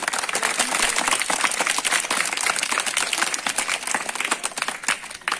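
A crowd at a birthday and Children's Day celebration claps and applauds loudly and steadily throughout, a dense continuous wash of hand claps with faint voices mixed in.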